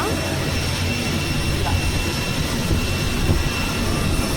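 An airplane jet engine roars steadily with a broad, constant rushing hiss, loud and unbroken for several seconds.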